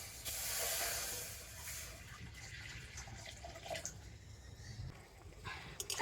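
Water boils in a kadai set on a lit stove, a faint, steady bubbling hiss with soft gurgles throughout.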